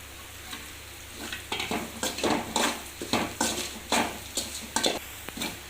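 Something sautés in oil in a pan, with rhythmic stirring strokes and spatula scrapes against metal, each stroke a soft swish over a low sizzle, close and moderately loud, no voices.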